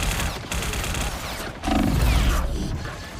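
An automated turret in a video game fires a rapid, continuous volley of harsh, noisy bursts that briefly dips and then surges louder, with no voices over it.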